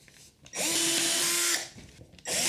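A power drill boring pilot holes whines loudly in two close bursts, the first lasting about a second and the second starting just as the clip ends, with a steady motor pitch and no talk.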